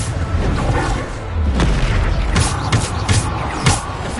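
Bombarda blasting spells fired in a video game set off deep, booming explosions, one after another in quick succession, each with loud crackling impacts.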